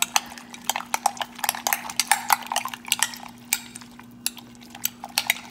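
Peppers being stirred into eggs cooking in a pan, a rapid, irregular run of close scrapes and clinks of a utensil against the pan over a faint steady hum, no voices.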